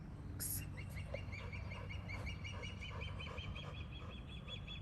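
Geese honk repeatedly in a park, a steady series of nasal calls at moderate distance over a low ambient rumble, with a brief sharp noise near the start.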